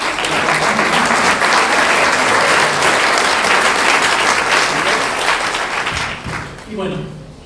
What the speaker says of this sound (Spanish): les pido le demos un fuerte aplauso.